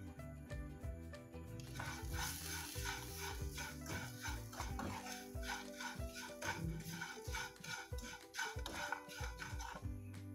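Curry leaves and coriander leaves crackle and sizzle in a pan for a semiya idli batter while a utensil scrapes and stirs in a busy, close, continuous rhythm, with no talking.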